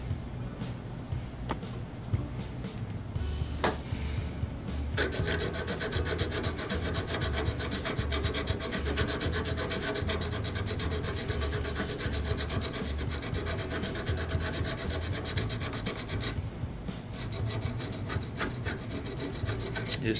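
Steady rasping of a file scraping a burr off an auger bit's cutting edge, continuous and close, with brief pauses and a slight change in stroke partway through.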